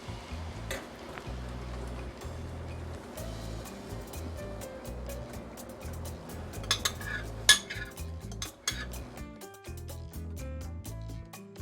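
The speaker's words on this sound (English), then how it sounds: "Now that my bacon grease has melted really well, I'm gonna add my bean mixture in here." Bean mixture goes into a pan of melted bacon grease for enfrijoladas, with a utensil clinking and scraping against the pan and a soft sizzle underneath, ending in a few close taps.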